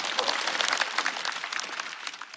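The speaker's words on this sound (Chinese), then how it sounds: "我们再次把掌声送给" A stand-up comedy show audience applauds, with dense, steady clapping at a fairly even loudness across the whole stretch. No voices are heard.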